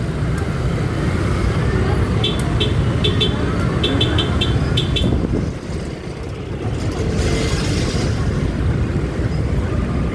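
Steady roadway rumble from a traffic jam in Bagbaguin, Caloocan, with cars, motorcycles and a large truck idling and creeping close by, a few brief horn beeps early on, and a voice talking over the din.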